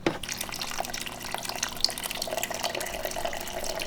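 A Whirlpool refrigerator's water dispenser pours a steady stream into a cup, making a continuous close splashing trickle throughout.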